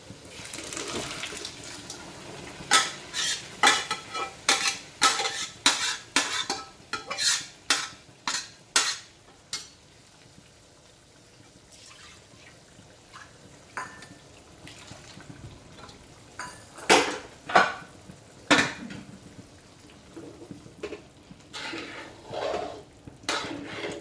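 Chana dal tipped into a pan and stirred with a spoon, giving bursts of scraping and clinking strokes in uneven runs with quieter pauses between, close and clear, without talk.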